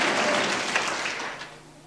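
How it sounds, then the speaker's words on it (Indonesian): Church congregation at an Indonesian revival service clapping together, a brief burst of applause that fades toward the end, with no one speaking over it. "Tepuk tangan bagi Allah kita saudaraku"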